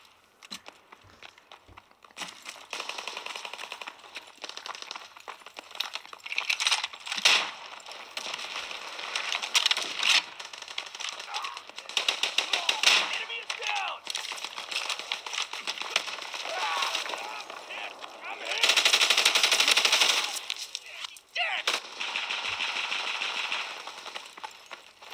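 Call of Duty WWII gunfire on the Winter Carentan map: rapid machine-gun bursts and crackling shots come in clusters, some loud and close, with players shouting over the combat.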